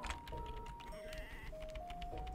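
Sheep bleating in the Harvest Moon Sunshine Islands video game, with short repeated bleats over thin, steady electronic game tones, close and clear without talking.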